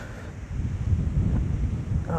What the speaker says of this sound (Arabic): وكتشوفوا البحر هايج، ديما هايج ديما